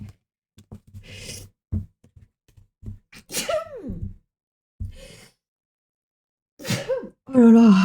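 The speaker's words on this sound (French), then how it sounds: "terrible, terrible, terrible ces éternuements" A person sneezes several times in close succession, with sharp breathy bursts, gasps and sighs between them, loud and close against otherwise quiet surroundings.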